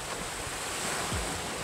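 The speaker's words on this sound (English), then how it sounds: "Here is the private beach at the second hotel." Waves washing at a calm, quiet private beach at a hotel in the Philippines, a brief steady wash of surf with some wind noise on the microphone.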